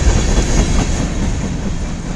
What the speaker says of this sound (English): L154-03, westbound local freight train.